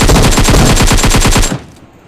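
Rapid automatic gunfire from PUBG Mobile: a loud, sustained burst of evenly spaced shots lasting about a second and a half, then cut off, leaving a faint fading tail.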